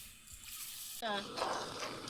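Water and then sugar are poured into a cooking pan to make sugar syrup for rasmalai, giving a short splashing, sizzling pour that starts suddenly and continues steadily at close range.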